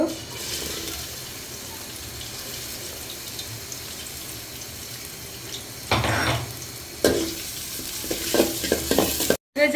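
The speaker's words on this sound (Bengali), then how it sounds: "এখন তেল দিয়ে দিয়েছি আমি এখন পেঁয়াজগুলো ভেজে নেব" Onions fry in oil in a pot on a stove for pulao, a continuous moderate sizzle with stirring scrapes and a few louder clatters of utensils toward the end.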